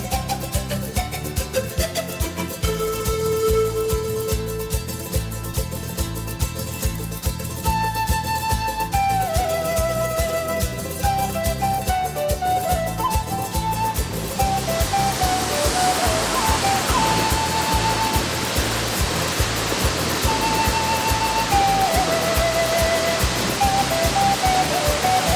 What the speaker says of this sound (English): Water from Todo Los Santos courses through these chutes carved in volcanic basalt from the nearby Osorno volcano.